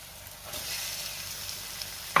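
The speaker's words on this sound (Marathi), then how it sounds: "आता आपल्याला ह्या मसाल्यामध्ये कोळंबी घालायची आहे" Prawns sautéing in a spiced masala, a soft sizzle that rises after half a second and holds, ending with a sudden loud clatter of a utensil against the pan.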